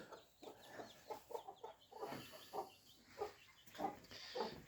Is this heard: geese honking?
yes